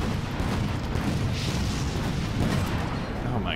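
Explosions from bombers in the Toy Soldiers game: a continuous rumbling roar of blasts and low booms, dense and loud, with no clear breaks.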